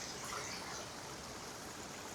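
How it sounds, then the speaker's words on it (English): A small waterfall and stream in Central Park in autumn, among fallen leaves, give a faint, steady wash of running water with no voices. "I'm here at a little waterfall / stream"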